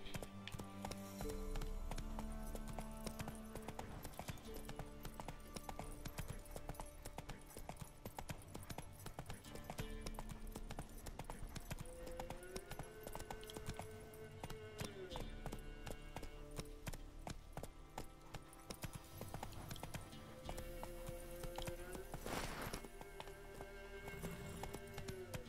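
A black horse's hooves clip-clop in a steady walking rhythm, the regular knocks carrying through nearly half a minute, with faint background tones and occasional voices.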